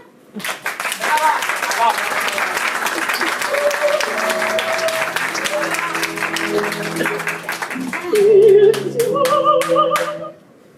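Dense audience applause after a scene in a class performance of Chekhov's The Seagull, a sustained crowd clapping that swells near the end, with voices and a tonal sound mixed in beneath.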